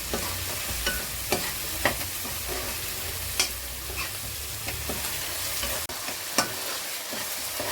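Coriander and mint leaves frying in a pan, a close, steady sizzle punctuated by regular sharp scraping taps of a stirring utensil, with no talking.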